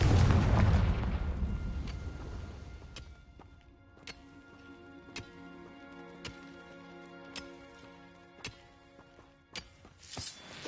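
A Confringo fire spell in Hogwarts Legacy bursts with a loud, deep blast that fades over several seconds, followed by scattered sharp pops and crackles against a sustained ringing game background.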